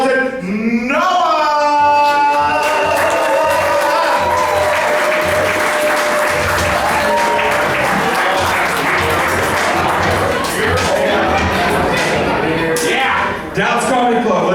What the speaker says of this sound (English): Big round of applause, make some noise for the very funny